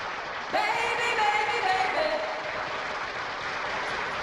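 A studio audience gives steady, continuous applause for an arriving elderly couple on a sitcom set, a broad even wash of clapping that keeps going under light talk.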